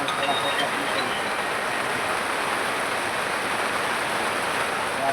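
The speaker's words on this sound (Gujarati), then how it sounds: "બાજુમાં વરસાદ છે" Rain falling near Rupavati, close to Gondal: a steady, even hiss of downpour that continues unbroken throughout, with no pauses or distinct drops.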